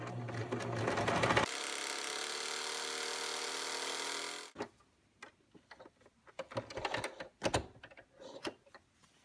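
A sewing machine runs in one steady, even burst for about three seconds while stitching along a folded seam edge of pojagi fabric. Lighter clicks and handling noises follow as it stops.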